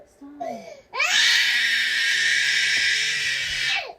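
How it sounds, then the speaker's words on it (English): A young girl screams and cries at length, a loud sustained wail after brief whimpers, with adult voices talking quietly underneath. "she's literally screaming"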